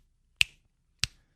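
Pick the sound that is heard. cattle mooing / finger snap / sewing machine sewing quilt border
finger snap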